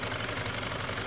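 A Piaggio Typhoon 125 scooter engine idles on its own after a first start-up, a steady, close mechanical chug with a faint knocking rhythm that continues without a break.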